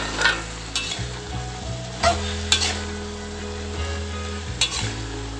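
Cauliflower and broccoli are stirred in a pot of boiling water, with a steady bubbling hiss and a few scraping clinks of the spoon against the pot, close up and without voices.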